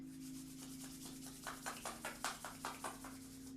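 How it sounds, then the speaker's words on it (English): Palms of two hands rubbed briskly together to make heat, a soft brushing friction that begins as a smooth hiss and turns into about ten quick rhythmic strokes, faint and close over a steady low musical drone. "Gently bring the palms of your hands together and rubbing them to generate heat."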